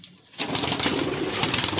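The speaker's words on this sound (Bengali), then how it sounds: "এই তিনটে পায়রা দেখো ছাড়ছি" Three house pigeons being released burst into sound after a brief quiet moment, a loud, close, steady rush of fluttering and cooing.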